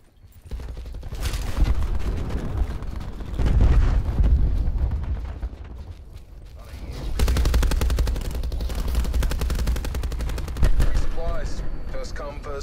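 Cluster grenades burst in a video game in heavy, loud rolling waves of rapid explosions and gunfire-like crackle, swelling and fading across the stretch, with electronic game effects near the end.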